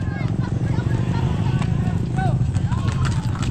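Racehorse hooves clop in a steady quick rhythm at a village horse race between Tayabas and Lucban in Quezon, partly under close, continuous talk from people nearby.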